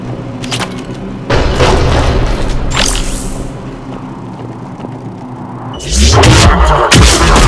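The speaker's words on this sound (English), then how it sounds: "The cannon fire is clearing the way." Cannon fire in the Mass Effect 3 video game: heavy booming blasts and thuds roll through a dense battle soundscape, with a loud burst of impacts near the end.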